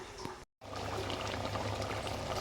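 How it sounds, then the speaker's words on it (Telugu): Water poured into a pot of mutton curry with gongura, a close steady splashing gush that starts after a brief gap and continues to the end. "ఇలా ఇలా మొత్తం అనేది మునిగే వరకు మనం వాటర్ అనేది వేసేసుకోవాలి."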